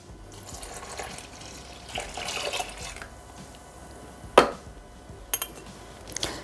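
Milk pours into a Thermomix (Bimby) kitchen machine bowl as a soft, steady liquid trickle, punctuated by a sharp clink of dishware and a few light taps.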